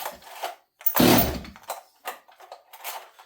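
A STIHL 026 chainsaw on full choke gets a start attempt: one loud, rough burst lasting about half a second, with quieter scraping and handling noises before and after.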